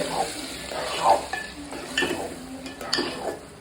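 Ghee-fried cashews being stirred into thick thiruvadhirai kali, soft sticky scrapes and light spoon taps against a pot under a faint residual sizzle, close and quiet.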